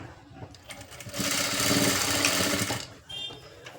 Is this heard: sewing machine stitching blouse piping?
yes